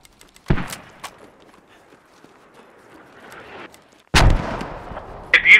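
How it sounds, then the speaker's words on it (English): Mortar rounds fire and land in the military video game Squad, with two sharp, loud blasts several seconds apart and faint rumbling and clatter between them. "Beautiful mortars."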